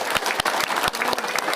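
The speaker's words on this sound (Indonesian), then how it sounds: "Kita kasih tepuk tangan buat beliau." Crowd at a political supporters' gathering in North Lampung applauding an honored community figure, with lively, dense clapping and sharp individual claps throughout.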